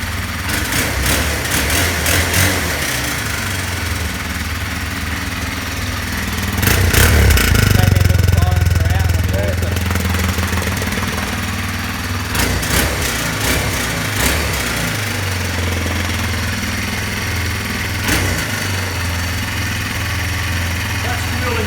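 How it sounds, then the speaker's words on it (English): A Kawasaki KLX230R fuel-injected motorcycle engine starts up with a surge in loudness, then settles into a steady idle, close by, while people talk over it. "So that's the KLX230R. Mate, do you want me to start it up?"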